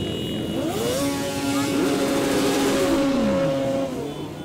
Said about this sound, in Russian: Замыкали колонну группа мотоциклистов.